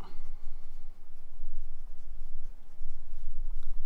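Steady scratchy strokes of an Opus 88 fountain pen with a fine nib on Oxford Optik paper, close and continuous, with a faint low hum underneath and no talking.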